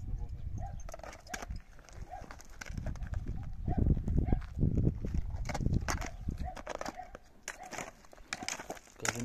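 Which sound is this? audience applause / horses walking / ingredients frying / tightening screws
horses walking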